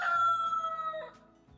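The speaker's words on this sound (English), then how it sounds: "roosters." A single rooster crows once, a long drawn-out call that is fairly loud and clear, trailing off into quiet.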